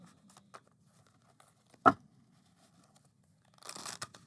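Hand-coloured tarot cards being shuffled, their coarse painted surfaces giving a few quiet, brief rasping riffles separated by near silence, with one sharper crunch in the middle and a busier flurry at the end.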